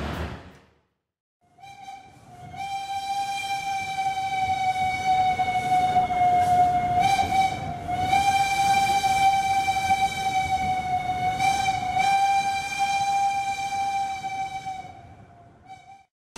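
A Sri Tanjung passenger train departing Surabaya Gubeng station, Indonesia: its long, steady horn blares for many seconds amid rumbling rail noise, rising from silence and holding loud and close before trailing off.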